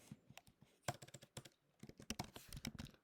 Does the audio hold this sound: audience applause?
no